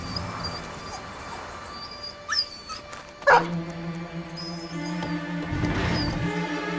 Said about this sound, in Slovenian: Glej, da cviliš z razlogom.